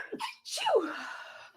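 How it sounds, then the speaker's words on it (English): A single close, sharp human sneeze, with a quick breath drawn in just before it. "Sneezy, sneezy, sneezes."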